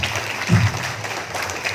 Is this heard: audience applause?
yes